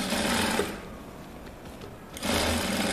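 A sewing machine stitches a shirt collar in two close, rapid bursts of whirring, separated by a pause of about a second and a half.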